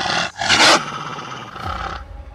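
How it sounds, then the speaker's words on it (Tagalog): A black dog growls and barks as a horror sound effect: a loud, harsh snarling roar swells then fades over a couple of seconds, close and alone with no talking. "isang itim na aso na naman ang nakasampa sa bungad ng kotse niya at nagaangil pa itong tinatahulan siya"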